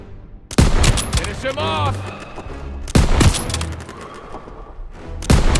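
Loud bursts of rifle and machine-gun fire from a Call of Duty WWII battle in a fortified courtyard with flak guns, arriving in three heavy volleys with someone shouting orders in between.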